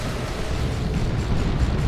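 A dense, continuous rumble of Frenzy Barrage explosions in the Dawn of War 2: Retribution strategy game, heavy low booming blasts rolling together with no clear gaps.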